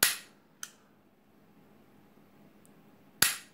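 Sig Sauer P320 blank gun by Ceonic firing two sharp, close reports about three seconds apart, with a small click of the action in between.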